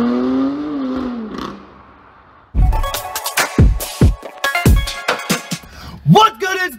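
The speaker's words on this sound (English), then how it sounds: "And the M3 finally sounds good." A BMW M3 Competition engine barks and revs in sharp bursts after a softer tonal passage, loud and close with rapid throttle blips and crackles.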